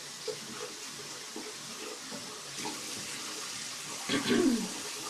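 Tap water runs into a sink at face-washing temperature, a soft continuous splash in a quiet indoor room, with faint scattered knocks and a brief louder burst near the end.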